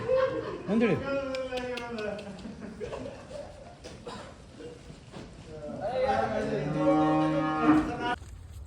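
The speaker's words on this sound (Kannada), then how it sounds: "ದೊಡ್ಡ ಹಸು ಕೇಳಿದ್ರಿ ನೋಡಿ" A large, high-quality cow lets out two long, loud moos, one at the start and another near the end, with quieter farm noise in between.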